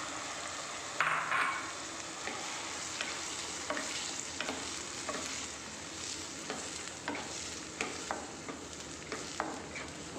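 A sweet mixture stirred in ghee in a pan, soft sizzling frying with a spoon scraping and tapping the pan at irregular intervals, fairly quiet and close, with no talking.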